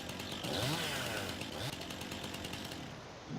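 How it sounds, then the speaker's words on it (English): Chainsaw cutting a tree in Farming Simulator 19, a steady buzzing engine drone running continuously and fairly loud, with a faint voice underneath. "Here's my chainsaw."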